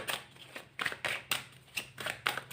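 Tarot cards are drawn one after another from the deck, giving close, crisp papery slides and flicks in a steady rhythm of about eight quick strokes.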